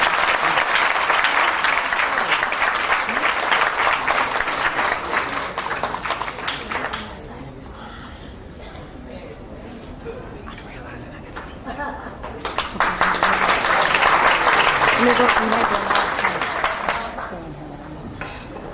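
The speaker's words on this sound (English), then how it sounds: "let's give him a round of applause" An audience at a welcome and orientation program breaks into sustained applause that swells twice, loud and dense from a full room, dipping to a quieter stretch in the middle before rising again and fading.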